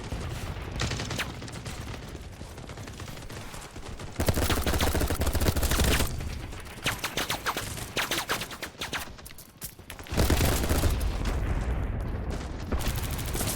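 Gunfire and a grenade blast in the Battlebit shooter game: sustained loud bursts of shots with heavy booming surges and dense layered combat noise throughout, no clear talk.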